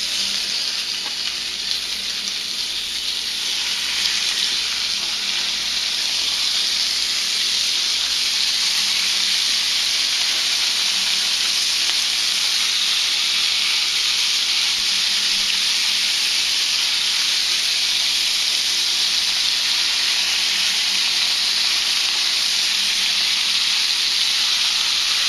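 Butter-coated crappie fillets for blackened crappie fry in a crowded skillet greased with cooking spray, producing a steady, loud, unbroken hiss and sizzle throughout with no one speaking.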